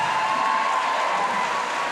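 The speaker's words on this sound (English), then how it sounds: "People are cheering quite loud for there" A crowd at a roller derby tournament cheers and applauds as a game on track 1 ends, a steady, fairly distant roar that holds throughout, with a sustained tone running through it.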